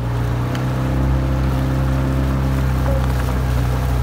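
A steady low engine drone with a rumbling, throbbing pulse, loud and continuous throughout, like a boat motor running nearby with water noise.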